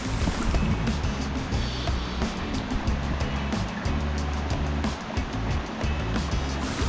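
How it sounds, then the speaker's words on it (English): Steady rushing water from a jungle waterfall, continuous and fairly close, with a broad churning roar that never lets up. "It sounded like a waterfall."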